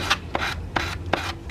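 Repeated back-and-forth rasping strokes of sanding along the edge of a custom motorcycle windshield, four or five close, even passes in quick rhythm with no talking.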